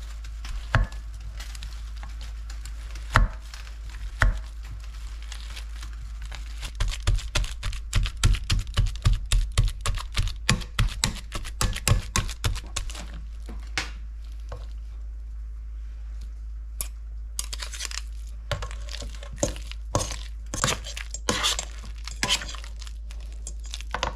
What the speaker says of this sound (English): So now I've got a plain old potato masher, and we're just going to mash them.